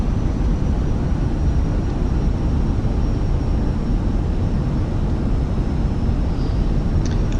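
Jet engines on an EasyJet Fenix A320 airliner in MSFS 2020 hold a steady, loud low roar as thrust comes back in on a calm-day approach along a beachfront, a continuous broadband rumble without talk.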